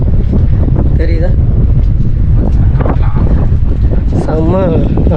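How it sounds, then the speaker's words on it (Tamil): Strong wind blows across a rocky hillside at a cave temple, roaring and buffeting the microphone without a break while a person talks underneath. "காற்று ரொம்ப வேறு லெவலில் இருக்குது."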